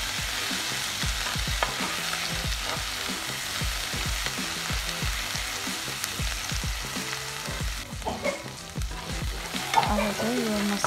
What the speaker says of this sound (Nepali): अब यसलाई चाहिँ म मजाले फ्राई गर्छु।